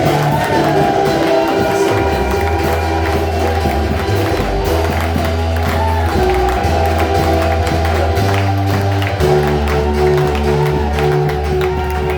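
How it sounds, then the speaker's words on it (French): A church congregation at a Sunday service cheers and shouts for joy, a loud, continuous crowd roar over a steady low musical drone and rhythmic tapping, sustained throughout. "avec des acclamations et cris de joie"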